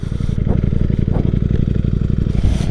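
A Ducati Streetfighter V4S motorcycle engine runs close and loud, with a throbbing, pulsing idle and slight revving.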